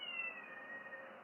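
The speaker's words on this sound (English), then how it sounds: "Can you hear the cat?" A drawn-out, whining cat meow, steady and fairly faint, alone without any talking.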